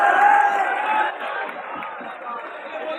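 Large crowd gathered around a speaker in Motihari, East Champaran, Bihar, a loud dense murmur of many voices and scattered shouts close by, fading slightly over a few seconds.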